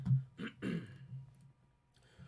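A person clears their throat and gives a couple of short, raspy coughs in quick succession, close by, then falls quiet.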